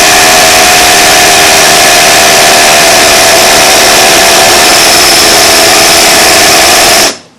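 A Milwaukee M12 FUEL rotary hammer drills with a long 1/2 inch bit, a loud, continuous, close hammering rattle that stops abruptly at the end.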